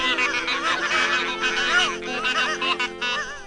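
A flock of geese honks in a chorus of overlapping, wavering calls, loud and close, as a sound effect within a Grimms' fairy tale story; the calls build and thin out, and they may be produced by voices imitating geese.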